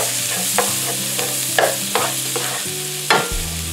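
Browning food being stirred in a frying pan, loud close sizzling with a spoon scraping and knocking against the pan several times at irregular intervals over a low hum.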